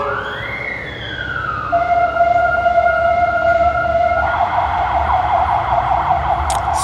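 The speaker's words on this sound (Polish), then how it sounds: "straż pożarna." A loud fire engine siren holds a steady wailing tone, rising in pitch at first, then settling into a sustained piercing howl.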